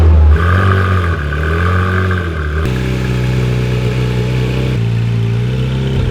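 A 2016 Porsche GT3RS catches and fires up nearby, the engine rising into a brief loud rev before settling into a steady, throaty idle that shifts pitch as it settles.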